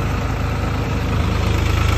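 A New Holland tractor engine idling beside a spray pump in a wheat field, a loud, close, steady low diesel throb with an even pulsing rhythm throughout, no voices.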